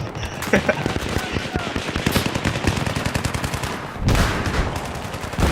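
Rapid automatic gunfire in the video game Battlefield 3 rattles in dense bursts, loud and close, with a brief pause before another heavy volley.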